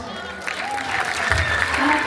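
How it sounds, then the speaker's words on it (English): An indoor audience breaks into applause after a talk, a dense burst of clapping rising in strength over about two seconds, with a few voices mixed in. "Give me a round of applause."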